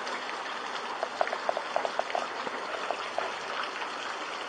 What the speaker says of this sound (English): There's like a river flowing down the street